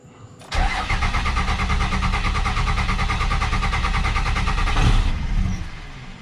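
A 2nd gen Cummins diesel with a hard-start fault cranks steadily for about four and a half seconds. The starter churns with a fast, even rhythm, loud and close, then drops away as the engine fails to catch.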